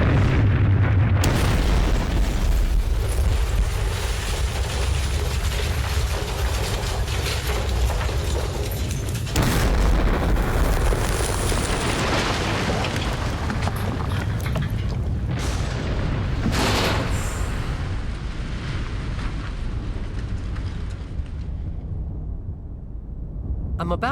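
Bombs exploding over a Blitz-era street, deep rumbling booms and bursts rolling on continuously with loud impacts, with speech audible at times beneath the din.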